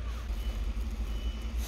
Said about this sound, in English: the car from the garbage company came, and also they clean roads